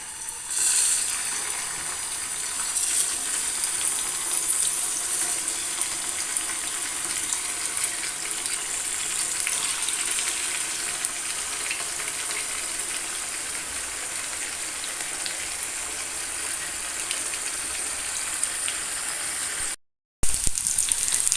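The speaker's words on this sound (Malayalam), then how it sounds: "നമ്മൾ ചൂടായ പാനിലേക്ക് വെളിച്ചെണ്ണ ഒഴിച്ചു കൊടുത്തിട്ടുണ്ട് നമുക്ക് ചിക്കൻ ഓരോന്നിട്ട് വറുത്തെടുക്കാം" Chicken pieces frying in hot coconut oil in a pan give a dense, even hiss, like steady rain, that stays loud and close for about twenty seconds, then breaks off abruptly near the end.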